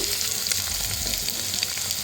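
Paneer sizzles and crackles steadily in hot oil, a close, continuous frying hiss with small pops and no talking.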